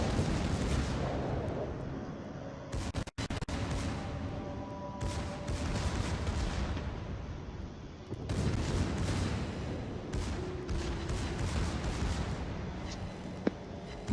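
Warship secondary guns fire repeatedly in World of Warships, heavy booming blasts arriving in irregular clusters that overlap and rumble on through the whole stretch.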